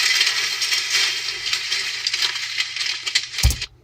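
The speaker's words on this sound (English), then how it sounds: "I have a paper debris scattering sound effect" Dry paper debris scatters and skitters in a dense, continuous rustle like blowing leaves, loud and close, ending with a sharp low thump just before it cuts off.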